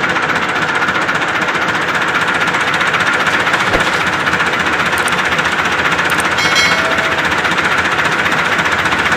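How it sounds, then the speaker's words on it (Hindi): A tractor engine runs loud and close beside an overturned trolley, a continuous rough knocking chug that holds steady throughout with no voices. "भाई ट्रैक्टर स्टार्ट थी चुकी है ना"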